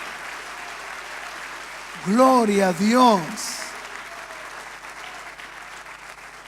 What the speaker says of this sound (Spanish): Demos un fuerte aplauso a Jesucristo.